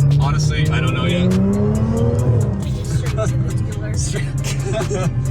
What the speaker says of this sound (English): I'm so happy this car is finally running.